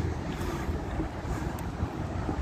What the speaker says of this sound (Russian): а ветер мне в харю